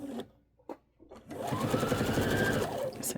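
A sewing machine speeds up into a steady whir, stitching down a key chain lanyard, following a few brief handling clicks and quiet words at the start.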